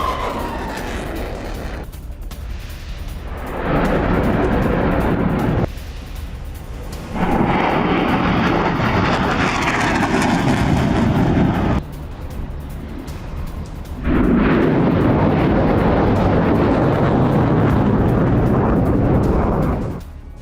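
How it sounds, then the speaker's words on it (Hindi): Heavy rumbling blasts from a Hamas Badr-3 missile attack on Israel, loud, sustained, booming roars in long surges with brief quieter gaps between. "हमास ने बद्र 3 मिसाइल से हमला किया है।"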